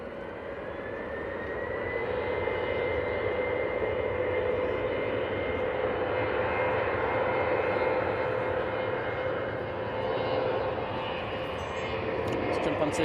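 An Airbus A330 jet airliner, a Finnair flight turning onto final approach at Manchester Airport, produces a steady, broad engine roar that swells gently and holds throughout, heard from the ground at moderate distance.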